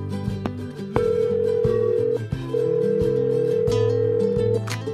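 A telephone call rings out through a line, with steady electronic tones in long pulses separated by short gaps, heard clearly over faint background music.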